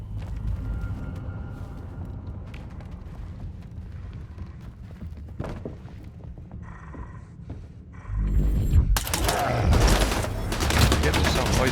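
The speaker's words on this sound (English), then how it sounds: "He's shooting me with the one of the rifles he got." Rifle gunfire in the video game Stalker 2: scattered quieter shots, then a dense, loud burst of rapid fire in the final few seconds, with someone talking over parts of it.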